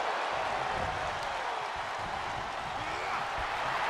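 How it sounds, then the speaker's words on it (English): A capacity arena crowd in the wrestling video game WWE 2K22 keeps up a continuous, even roar of cheering and clapping, filling the whole stretch without pause. "you hear this capacity crowd follow you on that journey"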